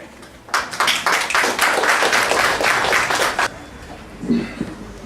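Audience at a high school launch party for young authors clapping in a burst of applause lasting about three seconds, then fading out to quiet room noise.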